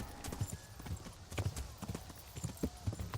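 Horse hooves galloping in the medieval video game Kingdom Come: Deliverance, a quick run of close, loud clip-clop beats in an irregular rhythm with faint background game sounds.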